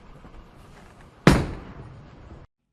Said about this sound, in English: Bowling.